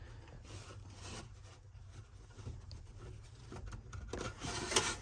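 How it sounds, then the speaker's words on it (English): Plastic dash trim on a 1994 Ford F150 is worked loose by hand, giving faint scraping, rubbing and creaking with a few small clicks and a brief louder snap near the end. "reach up in here and pry that off very carefully"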